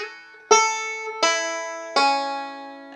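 Bluegrass banjo plays the opening measure of Cripple Creek: three bright plucked string attacks, evenly spaced with ringing harmonics that decay between notes, heard clearly and alone.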